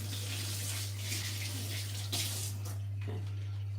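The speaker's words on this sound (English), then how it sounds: "let me wash my hands first" Hands washed under a running kitchen tap; a continuous rushing splash of water with rises and dips as the hands move through the stream, close by, tapering near the end, with a faint voice in the background.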